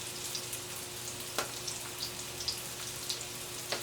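Shrimp sizzle in a pan on a stove top for shrimp Parmesan, giving a steady soft crackle with scattered small pops and drips.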